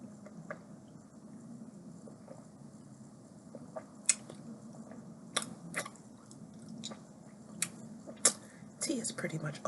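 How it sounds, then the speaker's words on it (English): Someone chewing food while deliberately moving it around the mouth, giving soft, close, intermittent wet mouth clicks and crunchy bites over a low murmur, with sharper snaps scattered through the second half. "I'm chewing in such a way where I'm moving the food particles around so they don't get stuck"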